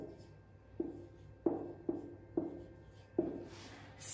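Pen or marker strokes writing out a two-digit multiplication problem, heard as five distinct scratchy taps spaced about half a second apart, quiet and close with no talking.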